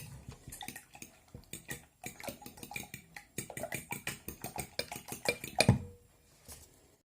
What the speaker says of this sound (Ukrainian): Взбиваю виделкою